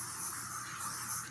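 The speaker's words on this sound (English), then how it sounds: "Get a workable spray" A short, steady hiss of light-hold hairspray sprayed from an aerosol can, close and fairly quiet, lasting just over a second.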